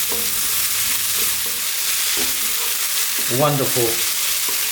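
Corned beef hash sizzling in a frying pan as it is stirred, with a constant bright fry hiss, scraping stirs and a short spoken word near the end.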